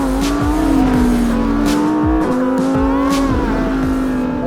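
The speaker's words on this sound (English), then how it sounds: "Just listen to that V10." Lamborghini Huracán Tecnica V10 engine pulling hard on a drive in New Zealand, a loud, close, sustained high-pitched howl that rises and dips through shifts, with brief tyre squeal, no talking.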